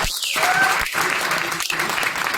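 A crowd at a Ludhiana trade centre event bursts into loud, sustained applause, a thick continuous wash of many hands clapping close by, briefly broken by a few speech-like sounds.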